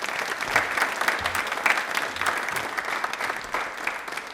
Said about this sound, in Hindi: तालियां प्लीज एक बार जोरदार हो जाए इनके लिए